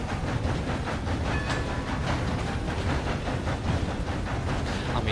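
A steam train rolls along railway tracks in Red Dead Redemption, a steady, dense rumble with repeated rhythmic clatter and hiss that continues unbroken at a close, loud level.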